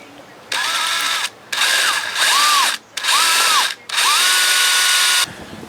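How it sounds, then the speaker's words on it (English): A power drill bores out a seized screw in aluminum on a 1987 Johnson 40hp outboard, running in five loud bursts with short pauses, pitch rising and falling as the motor spins up and slows. "I'm just going to go a little bit bigger bit each time"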